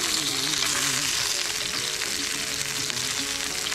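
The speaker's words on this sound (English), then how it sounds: "Stand the lamb shanks up on their bony ends to make sure that you put all the heat up through the shank" Lamb shanks seared upright on their bony ends in a hot pan, a dense, even sizzle and crackle at close range that continues steadily, with no talk.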